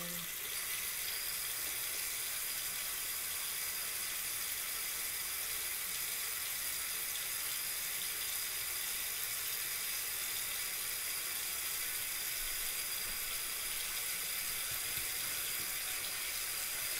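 Steady running water from a sink tap at home, a continuous even hiss with no breaks, moderately quiet and alone.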